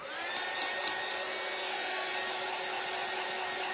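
A hair dryer drying fresh paint on a Dollar Tree frame, a steady loud close whirring blow with a high whine, running without pause and with no talk.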